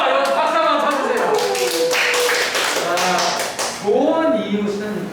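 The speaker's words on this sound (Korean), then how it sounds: "여기 박수 한번 쳐주세요." An audience at a lecture claps in a dense, steady patter for several seconds while a person keeps talking over it.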